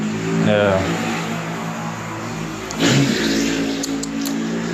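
A motorcycle passes outside, its engine droning and rising as it goes by, loud and steady across the few seconds beneath a man's speech.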